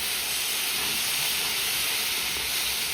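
Tomato paste hitting a hot pan for paneer butter masala, a loud, steady, even sizzle and hiss that stays constant for the whole moment, close up with no talk.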